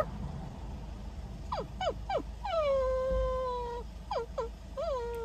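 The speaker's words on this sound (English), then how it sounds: "listening to a dog cry" A dog whimpers and cries outside a veterinary clinic in a series of high, falling whines and a longer drawn-out wail, fairly faint against a low background hum.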